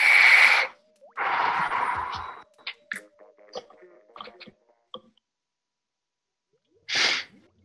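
Two loud, close sneezes burst out, followed by faint clicks and small mouth noises, then a third sharp sneeze after a pause of near silence, with a quick murmured reply.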